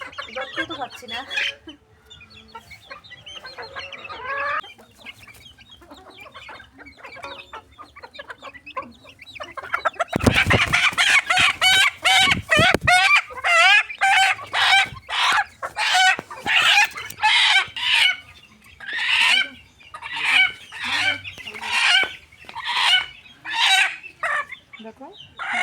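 Chickens cluck close by, then become loud, agitated squawks in rapid repeated bursts, along with rooster-like crowing calls and some background talking.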